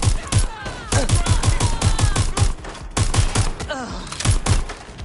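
Rapid automatic gunfire in Watch Dogs, a fast regular volley of sharp shots punctuated by brief pauses, loud and near, with voices speaking over it.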